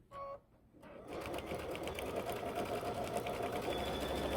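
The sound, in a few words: sewing machine stitching through quilt layers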